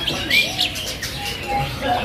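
Male wambi songbird calling with short, clear tonal whistles and chirps over a faint background, with brief rising and falling notes spread across two seconds.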